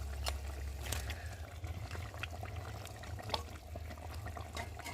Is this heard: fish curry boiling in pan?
yes